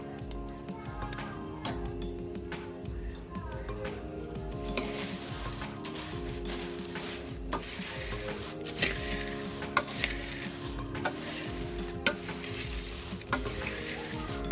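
Bhel puri being tossed and stirred by hand in a bowl, puffed rice (murmura) rustling with light clinks of a spoon against the dish, steady and close, with no talking.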